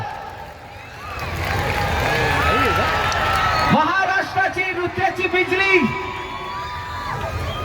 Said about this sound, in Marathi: एकदा जोरदार टाळ्या करा बद्दल